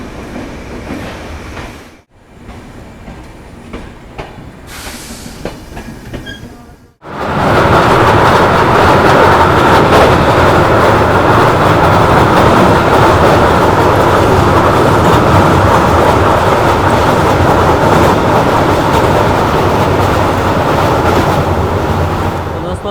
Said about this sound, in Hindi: अभी अपनी जो ट्रेन क्रॉस की है भाई सोनपुर ब्रिज